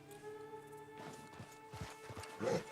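Horse hooves clip-clop in Red Dead Redemption 2, a few uneven thuds of a walking horse close by, with a steady tonal hum underneath.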